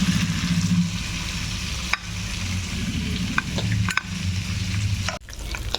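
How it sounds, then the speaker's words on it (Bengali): Shrimp fry in hot oil in a pan with a steady, fairly loud sizzle and bubbling that runs throughout, broken by a few sharp clicks and scrapes of a utensil, and a brief drop near the end. "ভালো করে ভেজে নেব চিংড়ি মাছগুলো"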